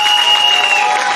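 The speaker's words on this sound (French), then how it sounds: "Je voudrais que vous puissiez l'applaudir également." A brief burst of audience applause at a donation ceremony, dense and fairly loud clapping from a crowd lasting just over a second, with a faint steady tone running underneath.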